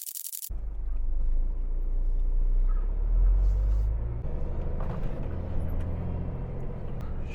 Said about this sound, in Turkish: Ben de bir tırı çalıştırayım.